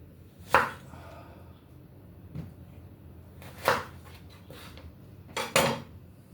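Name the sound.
chopping pumpkin with a knife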